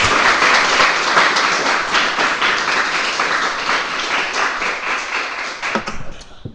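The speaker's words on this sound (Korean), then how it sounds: "우리 박수 한번 칠까요?" A church congregation bursts into warm applause, with many hands clapping in a dense, even roar that holds steady for several seconds before tapering into a few last scattered claps.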